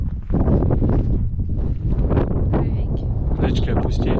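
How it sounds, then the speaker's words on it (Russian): Wind gusting hard across a mountain top at the highest point of a route between Ossetia and Kabarda, roaring and buffeting the microphone continuously and loudly throughout, with voices faintly mixed in. "Ветер дует."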